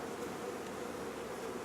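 Honeybees of a gentle strain drone steadily inside an open hive while the queen is being marked, a soft, continuous close-up buzz with no talking.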